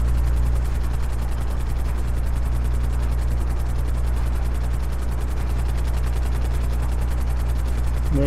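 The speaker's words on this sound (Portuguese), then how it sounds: "Meu helicóptero vai cair já, ó." Helicopter rotor and engine drone in the GTA Online video game, a steady loud continuous whir with a rhythmic blade chop throughout, running alone without talk.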